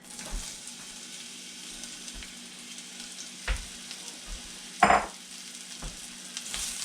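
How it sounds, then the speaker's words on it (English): Onions fry in oil in a pan for beef bourguignonne, giving a soft, steady sizzle close by, broken by a few sharp clinks and scrapes of stirring. "So we're going to add the onions in now."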